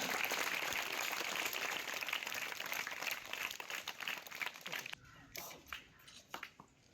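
A village crowd gathered for a memorial tribute to a fallen soldier claps loudly for about five seconds, then the applause stops abruptly, leaving a few scattered claps and quiet noise.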